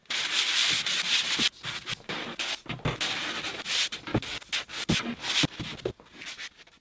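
Steady back-and-forth rasping of a manual sanding pad rubbed over the flat faces of MDF door rails and stiles, close and continuous with uneven strokes and short pauses.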